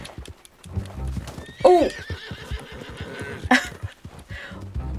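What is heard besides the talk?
horse neighing and hooves clip-clopping in the Red Dead Redemption video game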